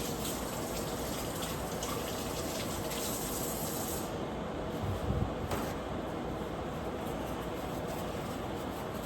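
Beef steak is rinsed under a running kitchen tap, giving a steady, close, broadband rush of water that runs throughout with a slight change in the flow midway and no talking.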